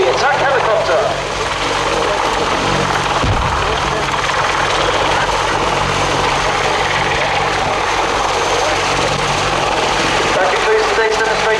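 British Army Apache attack helicopter performing a flying display at an air show, its loud, continuous rotor and engine roar throughout, with an announcer speaking over it.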